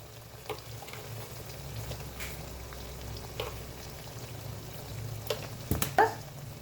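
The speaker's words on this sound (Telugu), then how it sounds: "ఈనో, ఇంగువ, దీన్ని బాగా ఫ్రై చేసుకోవాలి." Spices sizzling in hot oil on a low flame for homemade chilli pickle, a steady soft frying hiss with brief louder crackles and stirring clinks near the end.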